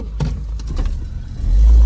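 An Opel Astra H idles and creeps backward in reverse with its wheels clamped, giving a low engine hum, a few knocks and clatters, then a louder rumbling surge near the end.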